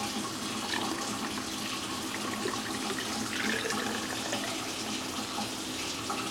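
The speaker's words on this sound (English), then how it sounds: "So you just fill it up with water" Tap water running steadily into the water tank of a Shark steam mop, a continuous close hiss and splash that holds even for several seconds with no talk.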